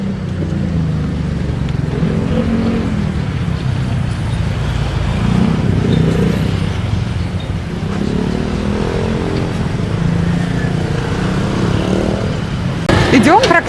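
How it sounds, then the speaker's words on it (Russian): Busy road traffic in Bangkok with mopeds and cars passing close by, a continuous engine rumble that swells and fades as vehicles go past, with no break. "Идем практически по дороге. Тут и мопеды, и машины."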